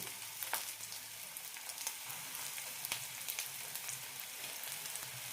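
Veg cutlets frying in oil in a pan over low flame, a steady soft sizzle with scattered faint crackles and pops, fairly quiet throughout.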